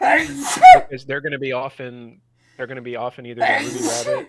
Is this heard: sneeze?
yes